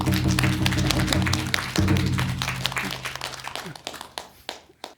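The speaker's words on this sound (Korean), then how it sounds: "여러분 큰 박수 부탁드리겠습니다" An audience at a Buddhist dharma talk applauds, a dense patter of many hands clapping that holds steady and then thins out and fades toward the end.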